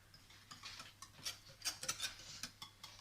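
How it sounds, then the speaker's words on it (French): Chocolate flan mixture with milk being stirred by hand in a bowl, giving soft scraping swishes and light utensil clicks in an uneven rhythm, close and fairly quiet, with no voice. "Mais vous allez mélanger à peu près 2 minutes comme ça."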